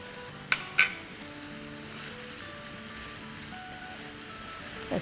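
Garlic and ginger paste frying in oil in a pan for egg bhurji, a soft steady sizzle with a couple of sharp clinks of a utensil against the pan near the start and again at the end.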